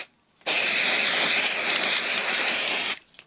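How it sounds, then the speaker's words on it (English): A hairspray-like makeup spray can fires one continuous, loud, close hiss lasting about two and a half seconds, starting and stopping abruptly, with no voices. "There, give it a good spray."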